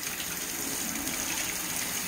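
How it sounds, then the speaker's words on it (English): Tap water gushes steadily into a kitchen sink, filling it for a chihuahua puppy's bath, a loud continuous rushing stream with no pauses. "Okay, she's heating up the water for Gucci."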